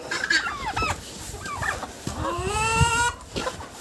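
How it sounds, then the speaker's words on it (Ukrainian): Farmyard turkeys squabble, trading sharp gobbles and warbling calls close by, with other fowl clucking among them and no talking. "О, вже сваряться індики."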